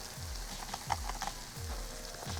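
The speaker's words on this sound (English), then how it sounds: "The butter's still sizzling." Butter sizzles and crackles in a hot pan of Southern-style cornbread dressing fresh from the oven, a soft, continuous frying hiss with faint pops, heard close and alone.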